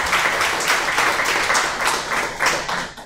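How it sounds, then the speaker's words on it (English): Audience at a DevOps Malaysia meetup applauding for sponsors and speakers, a brief burst of dense clapping from a small crowd, fairly close and sustained for about three seconds before tapering off. "So a round of applause to them."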